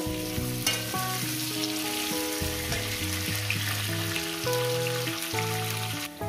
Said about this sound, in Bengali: 4 থেকে 5 মিনিট টাইম ধরে ভেজে নেব। গ্যাস কিন্তু মিডিয়ামে রাখবেন